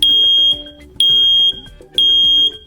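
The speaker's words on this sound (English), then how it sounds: "When an alarm is triggered, you'll hear a loud 85 decibel T3 pattern chirp to alert you." First Alert BRK SC9120B hardwired smoke and carbon monoxide alarm sounding its loud 85-decibel T3 pattern, three shrill piercing beeps in a regular rhythm, loud and close with nothing else heard.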